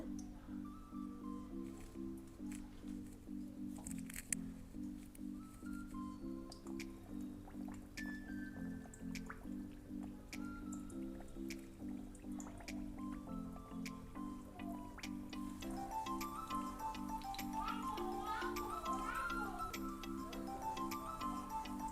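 Khasta kachori frying in moderately hot oil, giving a soft, steady bubbling with rhythmic ticking and dripping pops, faint and close, growing a little busier toward the end.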